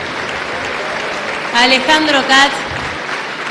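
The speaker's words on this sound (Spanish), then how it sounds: "Un fuerte aplauso para Margarita Stolbizer, Miguel Lipchitz," Audience applause at a political gathering marking 35 years of democracy in Argentina: a broad, steady wash of clapping runs throughout while a voice announces a name over it.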